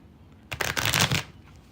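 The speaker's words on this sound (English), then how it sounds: "Just shuffle" Tarot cards are shuffled in one brisk, riffling burst lasting about a second, close and fairly clear, with quiet room tone before and after.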